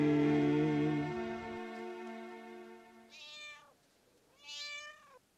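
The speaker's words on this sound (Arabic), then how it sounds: "مش ده صوت قطه ده برضك ولا ايه" A cat meows three times nearby: one long, drawn-out tonal cry, then after a pause two shorter, higher meows, each clear and distinct against a quiet background.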